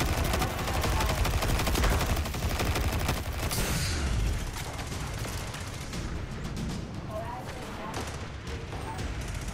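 Rapid automatic gunfire in the video game Destiny 2, dense and continuous bursts of shots at close range for several seconds, easing into lighter scattered fire.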